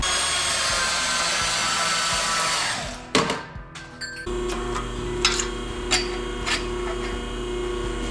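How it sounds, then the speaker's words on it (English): A saw cuts through a 4-inch piece of metal in a steady, loud, broadband grinding rasp for about three seconds, then stops with a few clunks before a lower hum and scattered clanks follow. "Take that saw over there and just cut 4 inches."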